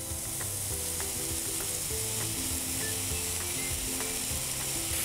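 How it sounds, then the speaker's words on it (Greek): Chopped portobello and button mushrooms fry with celery in a pan, giving a steady, close sizzle with occasional stirring clicks, no voices. "Τηγανίζουμε έτσι λίγα λεπτά για να μαραθούν τα μανιτάρια και το σέλερι."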